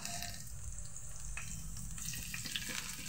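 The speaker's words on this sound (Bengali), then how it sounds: "এটাকে একটু ভেজে নেব।" Garlic, grated ginger and chopped green chilli fry in about three spoons of hot oil in a pan, giving a steady, close sizzle that stays level throughout.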